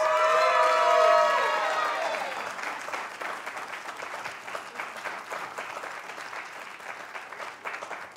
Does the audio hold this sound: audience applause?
yes